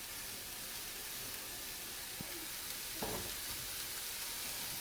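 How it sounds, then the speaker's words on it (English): Onions and mincemeat fry in a pan with a continuous, even sizzle and hiss, joined by a couple of brief scraping stirs, heard close and without talk. "And now basically fry these onions and mincemeat until the onions are nice and soft."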